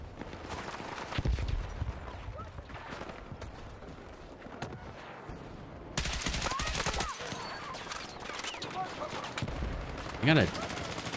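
A tank firing on players in a multiplayer shooter game amid a dense, continuous battle din of gunfire and blasts, loud and sustained throughout with a heavier stretch in the second half.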